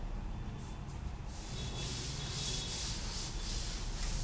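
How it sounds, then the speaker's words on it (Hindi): Writing is rubbed off a classroom board in brisk, continuous scrubbing strokes that swell louder partway through, close by and with no speech. "तो इधर रब कर देते हैं"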